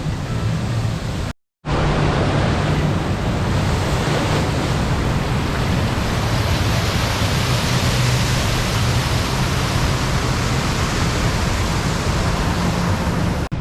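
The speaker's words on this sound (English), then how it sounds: "But you still got Storm Force 10 over here running. Storm Force 10 is one of the best water rides in the UK." Storm Force 10 water ride at Drayton Manor, a loud, continuous roar of rushing and splashing water close by, with a brief cut near the start and no talk.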